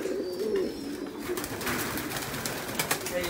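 Pigeons kept for pairing coo in low, throaty, rolling calls, close and steady, with faint scattered fluttering and shuffling around them.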